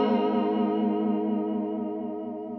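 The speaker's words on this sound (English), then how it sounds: "it also has a triangle wave setting, and that sounds like this" Electric guitar chord played through a Walrus Audio Julia analog chorus pedal on its triangle wave setting, one sustained chord with a wavering chorus shimmer that slowly decays, heard alone.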